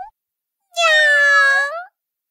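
A cat's meow in a children's Bible story about creation, delivered as one clear, loud, drawn-out call of about a second that rises and falls, standing alone after a brief sound at the very start.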